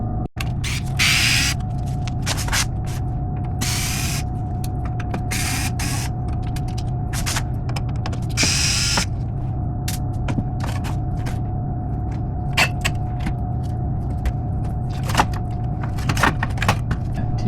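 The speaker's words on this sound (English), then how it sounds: "so we can see what the compressor and fan do whenever I turn it on" A TRUE double-door commercial refrigerator's compressor and fan run with a steady low hum and a constant tonal drone, while scattered clicks, creaks and rattles come and go over the top.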